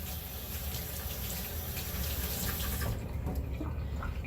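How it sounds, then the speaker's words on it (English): Hands rinsed under a running kitchen tap, a steady close hiss and splash of water that cuts off sharply near the end, leaving faint drips and handling sounds. "I'm gonna rinse off my hands really quick."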